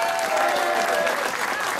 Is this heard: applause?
yes